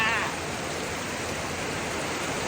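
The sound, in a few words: heavy rain falling outside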